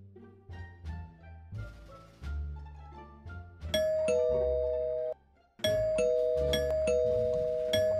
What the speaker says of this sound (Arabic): احسن شيء ادق الجرس، لان الجرس يم راسي هسه بسرعه تقعد.